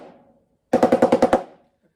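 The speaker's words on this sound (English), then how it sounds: "there's actually two different ways that you can play the 7-stroke roll," A snare drum plays a seven-stroke roll: seven quick, evenly spaced, crisp strokes in a short burst, loud and close, with nothing else sounding.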